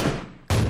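Two sharp, loud AWM sniper rifle blasts about half a second apart, each with a booming decay, in the video game Battlegrounds.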